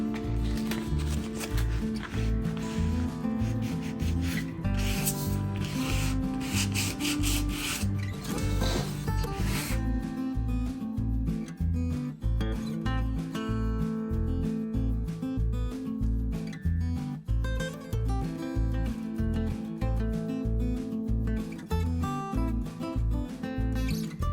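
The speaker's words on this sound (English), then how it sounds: "I'm going to take a little sandpaper and just kind of rough up the edges here." Sandpaper rubbed by hand along the edges of a plain thrift-store tray, rhythmic close scraping strokes in quick repeated passes, steady throughout.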